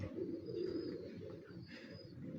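Pigeon cooing from a rooftop loft, soft low repeated coos at moderate distance over a quiet background, with no talk.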